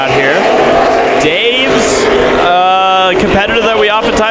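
Race cars in a heat race at Bakersfield Speedway roar loudly with rising and falling engine pitch as they pass, under steady commentary.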